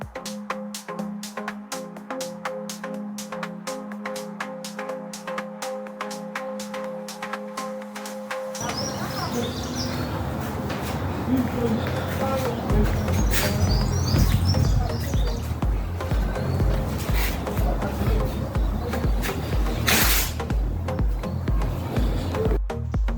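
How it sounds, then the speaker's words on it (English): Birds chirping outdoors on a bright day at a kitchen renovation site, scattered small tweets that are faint at first and grow more noticeable partway through, mixed with nearby rustling and background activity. "And the beautiful birds are chirping."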